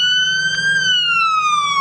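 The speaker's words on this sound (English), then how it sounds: "the bright lights and sirens of an EMS team will be there" An EMS emergency vehicle siren wails loud and close, one long steady tone sliding slowly downward in pitch with no voices over it.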